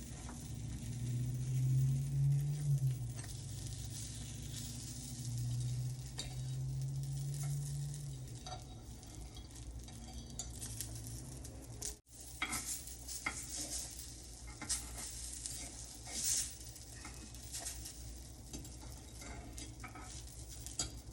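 An oil-free, weight-loss dish is flipped in a pan with no oil added. A steady close sizzle runs throughout, with a single clunk from the flip about midway.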